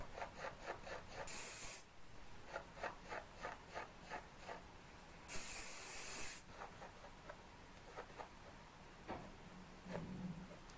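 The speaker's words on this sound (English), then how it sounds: "And then I spray it with some hairspray." Aerosol hairspray is sprayed onto hair in two sustained bright hissing bursts, set between softer rhythmic brushing or rubbing strokes heard close up, with no speech.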